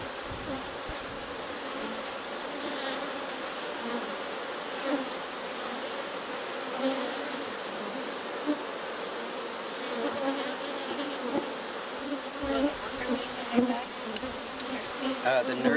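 Honey bees buzz steadily around a queen cage during requeening, a dense continuous hum of many wings close by with small swells in intensity and no talking.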